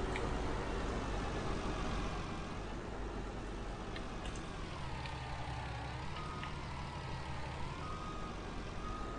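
In Farming Simulator 19, trucks rumble steadily during earthmoving work at a building site, with faint reversing beeps over the engine drone.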